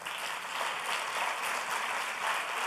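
A church congregation applauds during a Sunday general service, dense, sustained clapping that stays level and fills the whole moment without voices on top.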